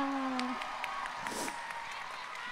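Concert audience at a show clapping and cheering for the singer's mother and boss, a dense continuous roar of applause with scattered whoops, voices heard faintly beneath.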